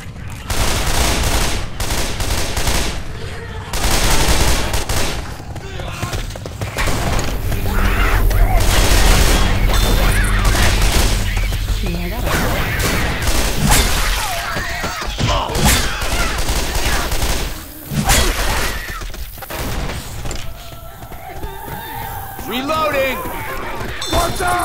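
Rapid bursts of gunfire from Left 4 Dead 2 in the Parish campaign, repeated automatic shots and booms loud throughout, with in-game character voices shouting over the shooting.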